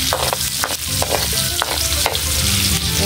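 Sliced onions fry in a hot pan, a dense steady sizzle with repeated clinks and scrapes of a spoon stirring them, close and loud with no talking.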